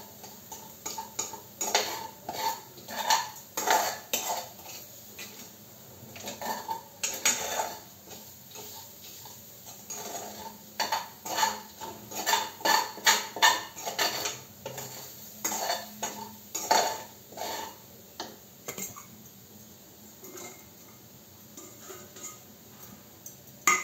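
Cluster bean curry being mixed in a pan with a metal utensil, producing a steady run of close clinks and scrapes against the pan, with brief pauses between strokes.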